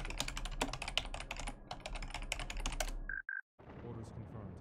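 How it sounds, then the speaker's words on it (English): A computer keyboard is pounded hard during a Star Wars: Ascendancy strategy game, with dense rapid clattering keystrokes that fill several seconds, followed by a brief two-note electronic chime and more muffled activity. "Sorry for all the keyboard pounding there."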